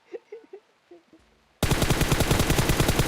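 Rapid automatic gunfire from PUBG Mobile bursts in loud and sustained for the second half, after a quiet stretch of a few faint taps and clicks.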